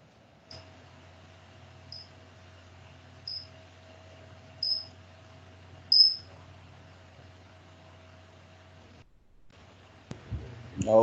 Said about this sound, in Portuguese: Olha o grilo aí.